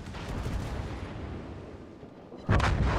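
World of Warships gameplay, with a Soviet cruiser's forward battery of six guns firing HE shells in one sharp, heavy salvo that cuts in after a steady rumble of engine and sea noise.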